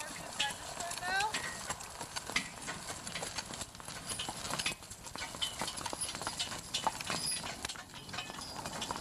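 Horses walking on a road in Falls Village, their hooves clip-clopping in a steady, overlapping rhythm at moderate distance, with people talking throughout.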